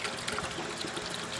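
A brief, quiet pour of metal treatment solution into a container, a soft steady trickle of liquid with no voices.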